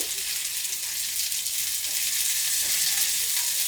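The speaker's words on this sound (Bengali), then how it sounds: "এবার আমি নেড়ে চেড়ে নিচ্ছি।" Dry red chillies fry with mixed vegetables in a pan, a loud dense hiss of sizzling oil that runs steadily throughout, close up, with faint stirring underneath.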